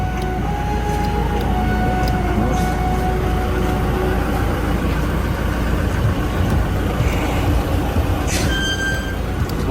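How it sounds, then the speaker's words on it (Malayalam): A Toyota Fortuner SUV on the move, heard from inside as a steady, loud engine and road rumble with a faint intermittent tone and no voices. "അച്ഛൻ വണ്ടി ഓടിക്കുന്നു"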